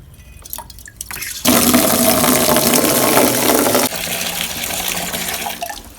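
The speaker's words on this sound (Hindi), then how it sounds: "तो चलो अब बाल्टी भरता हूँ" Water gushes loudly from a tap into a bucket for a couple of seconds, then continues as a softer steady pour as the bucket fills up.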